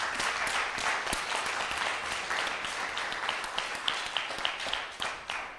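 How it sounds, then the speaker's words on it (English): A conference audience claps for the senior moderator in continuous, dense applause. Individual sharp claps become more distinct toward the end. "A clap for him."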